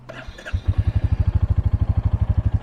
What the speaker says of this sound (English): So let's cold start this and just watch it start right up.